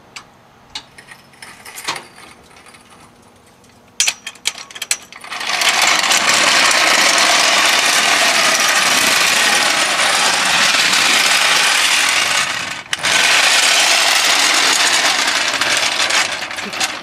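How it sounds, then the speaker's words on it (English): A car jack lifts the rear of a car off a jack stand during a tire rotation, first a few scattered metallic clicks and clanks, then a loud, sustained mechanical grinding rasp that runs steadily for about ten seconds with one short break. "jack the back up off of the jack stand to put the final tire on"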